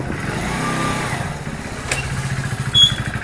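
A motorcycle engine runs close by with a steady, throbbing putter that rises briefly near the end, with no talking over it.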